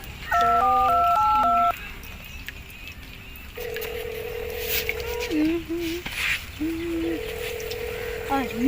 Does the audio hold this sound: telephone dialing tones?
yes